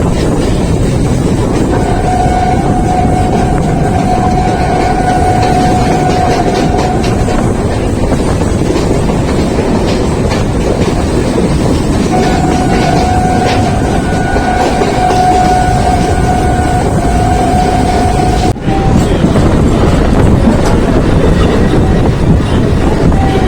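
A Sealdah to Kalyani Simanta local train on the Eastern Railway rumbles loudly along a single-line track, a constant heavy roar with faint clatter and a thin metallic squeal rising now and then, heard from inside.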